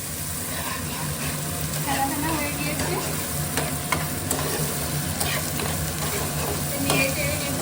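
Prawns for chingri malai curry stirred and frying in a pan, a steady close sizzle with scraping stirs throughout, under faint background noise.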